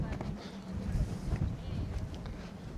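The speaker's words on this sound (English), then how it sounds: "Let's try and get out of this wind because it's a bit, you can hardly hear." Strong wind buffets the microphone on a hilltop walk at a castle hill, a loud continuous rumbling roar with gusty surges throughout.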